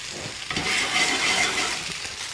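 Steaks fry in a hot pan with crushed garlic and thyme, giving a steady, fairly loud broadband sizzle that swells slightly midway and carries on without pause or voices.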